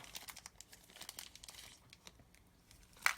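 A small plastic bag that held Allen keys from a Tamiya Land Rover Defender CC-01 kit is handled, giving soft, close crinkles in scattered bursts, then one sharper rustle near the end.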